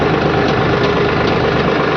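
A steady, loud tractor engine idles close by with a constant low rumble and a slight vibrating chug, and no voices.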